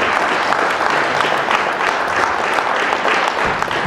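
Sustained, dense applause from an audience fills the room for a saxophone player at a brass band concert, loud and even throughout with a faint crowd murmur.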